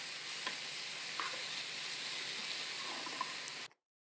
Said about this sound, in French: Alors je mélange quelques secondes et après je retire le feu.